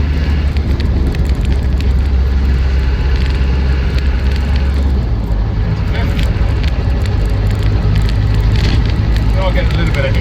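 A Land Rover Defender 90 200TDi hardtop diesel idles steadily, a loud, close low rumble with a constant throb that persists through the whole stretch, with some faint clatter above it.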